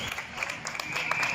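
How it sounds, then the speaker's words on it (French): Neighbours applauding doctors from balconies and windows at 8 pm during France's coronavirus lockdown, continuous outdoor clapping with a faint high whistle running through it. "les gens commencent à applaudir les médecins au balcon"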